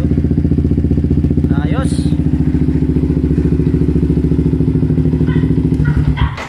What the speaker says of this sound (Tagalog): sa mga gagamit din ng HGM Performance na open pipe, goods na goods siya para sa sniper